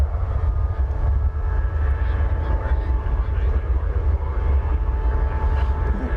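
An Embraer E-jet airliner at DFW Airport produces a steady, loud, broadband jet engine roar with a low rumble and faint whine, continuous throughout and unbroken by talk.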